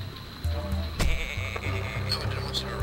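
Sheep bleats from the Tak and the Power of Juju video game, a few short nasal calls over steady game music and ambience, moderately loud and close.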